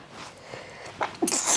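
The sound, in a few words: sneeze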